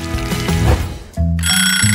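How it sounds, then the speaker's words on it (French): Electronic alarm going off in a kitchen, bright ringing tones and bell-like chimes that shift pitch and pattern, loud and close with a brief dip before a sustained high tone. "Oh, l'alarme a marché."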